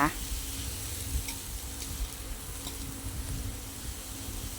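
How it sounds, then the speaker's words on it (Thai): Long beans and pork stir-frying in a pan with shiitake mushrooms give a soft, continuous sizzle that stays fairly quiet and even, with faint stirring and no talking. "นี่นะคะ ผัดให้สุกเลยนะคะ"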